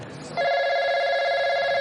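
A telephone bell rings loudly and steadily, starting after a brief quiet moment and continuing unbroken to the end with no talk over it.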